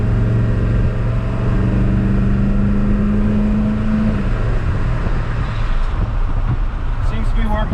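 Ford 7.3 Powerstroke diesel engine with a newly installed turbo running at full throttle, a loud sustained low rumble with a steady rising tone, close by and filling the whole stretch, with someone talking over it.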